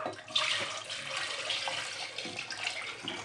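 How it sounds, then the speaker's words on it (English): Meat broth poured into achu soup in a home kitchen, a steady liquid splashing and trickling stream that runs continuously, close and fairly loud, with no talk over it. "So now I'm going to go ahead and put in my meat stock, my meat broth."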